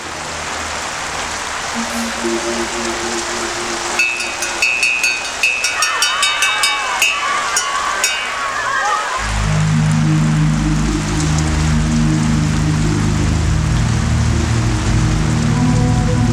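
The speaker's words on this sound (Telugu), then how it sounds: "వర్షం బాగా పడుతోంది" Heavy rain pours steadily throughout, with musical tones rising over it midway and a deeper music bed joining near the end.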